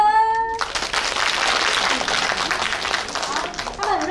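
Audience applause for a group of Filipino singers at a supplementary school's year-end thanksgiving showcase: a dense, steady wash of clapping that swells after a brief voice and fades as the emcee starts talking.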